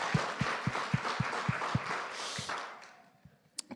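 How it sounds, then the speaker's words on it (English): A church audience applauds a man named Ken with a broad, moderately distant wash of clapping over steady low thumps. It fades out after about two and a half seconds, leaving a few scattered claps. "give him a round of applause"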